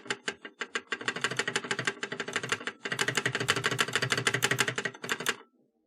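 Rapid typing on a modded cheap mechanical keyboard, close and fairly loud, with dense clacky keystrokes in bursts and a slight rattle, stopping abruptly near the end.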